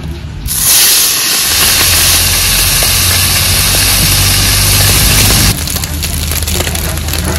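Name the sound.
small chada fish frying in hot oil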